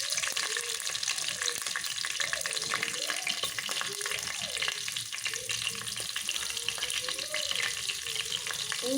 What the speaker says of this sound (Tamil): அடுத்தது பச்சை மிளகாய் போட்டுக்கோங்க. கொஞ்சம் மேலே தெரிக்கும்